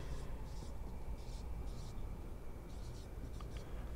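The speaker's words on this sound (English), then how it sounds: "Let me write 8." Pen writing numbers on paper during a physics tutorial on measurement, faint scratchy strokes in short bursts over a steady low background hum.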